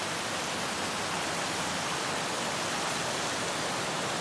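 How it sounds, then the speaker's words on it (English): Waterfall along a wet hiking trail near Arch Rock, a steady broadband rush of falling water, moderately distant and continuous with no voices. "We can pan off to the right, see some waterfalls"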